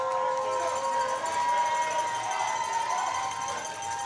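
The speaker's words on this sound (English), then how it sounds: "The crowd is going wild for Brittany here." An arena crowd roars and cheers without a break during a powerlifting competition, a steady, loud wash of many voices at close range, with no clear speech standing out.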